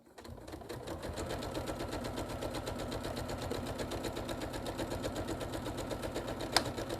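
Sewing machine running steadily while stitching a quilt panel border, a fast continuous mechanical whir with a rapid needle chatter, fairly quiet and close, one brief click near the end.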